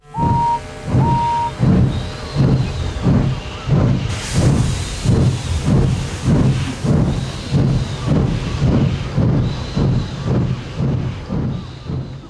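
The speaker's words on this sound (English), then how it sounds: "this shot of Henry departing with his heavy train" Henry, the steam engine from Thomas & Friends, departs hauling a heavy train. A brief whistle opens, then loud, evenly spaced chuffs roll on steadily, with a sharp burst of hissing steam midway.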